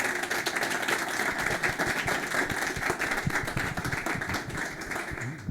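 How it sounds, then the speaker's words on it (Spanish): An audience at a photography talk gives welcoming applause, a dense, even patter of many hands clapping that carries on steadily at moderate loudness the whole way through. "Aplauso de bienvenida."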